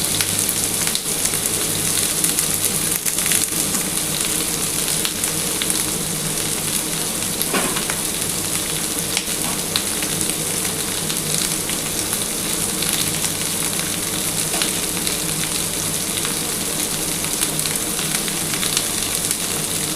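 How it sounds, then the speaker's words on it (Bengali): Potato and pumpkin pieces frying in a pan with a little turmeric, cooking for a pumpkin and egg dish, give a steady, loud, dense sizzle that crackles without pause and has no talk over it. "আগে প্রথমে আলু আর কুমড়োটাকে ভেজে নিচ্ছি"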